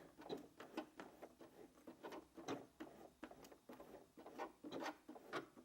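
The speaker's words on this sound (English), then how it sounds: "Now it will do some stitches on the spot, and then the needle should swing." Sewing machine stitching in place while an invisible zip goes into a cushion: a quiet, rapid run of rhythmic needle clicks and taps, close by and alone.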